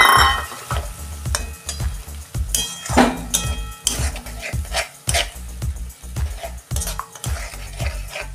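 Ginger-garlic paste with poppy seeds, fennel and cashews sizzles in a pan as rinse water from the bowl is added for a yogurt-based katla fish curry. A spoon stirs and scrapes in repeated close strokes over a steady frying hiss.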